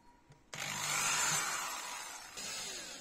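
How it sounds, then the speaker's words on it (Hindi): A power drill bores holes through a wooden speaker panel, starting suddenly with a close, rough whirring grind that eases slightly and then surges again. "वुड में काफ़ी आराम से छेद हो जाता है"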